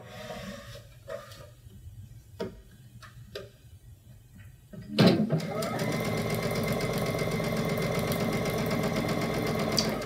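A sewing machine with a patchwork foot runs a straight quilt seam for a Christmas-season quilt, starting after a few soft clicks and then whirring steadily and loudly for about five seconds.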